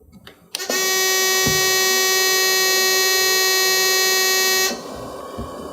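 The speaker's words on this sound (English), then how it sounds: "You'll notice that the unit's going to alarm, which is perfectly normal initially." An AirSep NewLife Intensity oxygen concentrator sounds its start-up alarm, a loud steady electronic buzzing tone that holds for about four seconds after a click and then cuts off, leaving a quieter machine hum.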